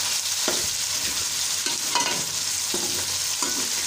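Meat being stir-fried for bhuna gosht with softened onions, a steady close sizzle broken by about five scraping stirs of a spoon against the pan, spaced roughly a second apart, with no talking.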